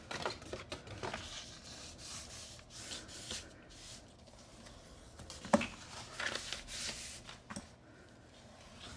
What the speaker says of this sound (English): first thing I'm gonna do is fold and burnish.